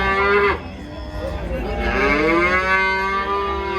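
Cattle at a livestock market moo loudly and close by, one long drawn-out low call after another, with faint crowd noise behind.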